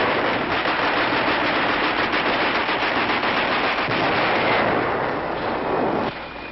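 Rifle and machine-gun fire rattles almost nonstop in a combat scene during the Manila drive, dense loud bursts blending into a continuous roar before easing slightly at the end.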